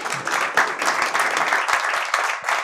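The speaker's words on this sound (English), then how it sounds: "So let's give David a round of applause." Brief burst of audience applause at a tech community forum at Atlanta Tech Village, steady clapping from a modest crowd with a few distinct sharp claps standing out.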